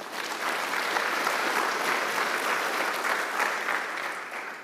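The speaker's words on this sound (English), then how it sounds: "Let's give a round of applause to that." Conference audience applauding steadily, a dense wash of clapping that holds at an even level for several seconds without any speech over it.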